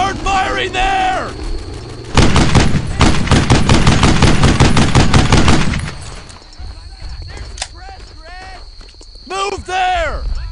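Soldiers firing rifles and machine guns in the Brothers in Arms World War II shooter, a sustained loud burst of rapid shots, then sparse cracks and whizzing under shouted orders.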